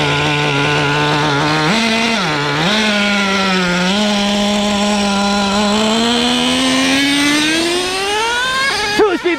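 A Traxxas T-Maxx 3.3 nitro RC truck engine races hard, a loud buzzing whine that rises and dips as the throttle changes and then climbs steadily to a higher pitch, ending with a brief sputter.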